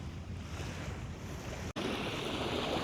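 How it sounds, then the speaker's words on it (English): Calm ocean waves wash in a steady, broad rush of surf with wind noise on the microphone, loud and continuous apart from one brief dropout, with no voices. "as you enjoy the waves and the sound of it"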